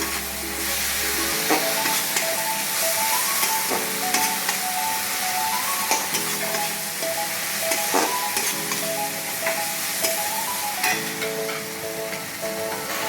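Spice paste with ginger paste being stir-fried in oil for aloo potol curry, a steady loud sizzle under repeated scraping and stirring strokes of a spatula in the pan.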